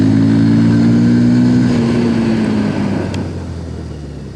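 A TVS Apache RTR 160 2V motorcycle's engine drones loudly at about 60 while the rear brake is applied, the pitch sliding downward and the sound fading as the bike slows.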